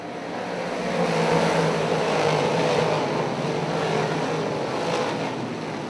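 Super DIRTcar Series big block modified race cars roaring at Mohawk International Raceway as the green flag drops, a loud sustained engine roar swelling as the field passes.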